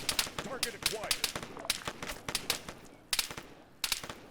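Sharp rifle shots crack from AI soldiers in Arma 3, fired in irregular single shots and short bursts that stay loud and close, with voices talking in between.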